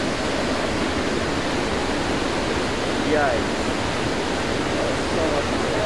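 Roaring river water in full spring flow, destined for the Jordan River and Salt Lake, makes a loud, constant broadband rush close by, with a brief spoken exclamation over it.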